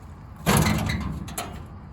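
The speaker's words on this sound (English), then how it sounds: "This door kind of sticks a little bit," Cab door of a Case CX160B excavator sticking slightly as it is pulled open, giving a close, loud scraping rattle about a second long, then a second short knock.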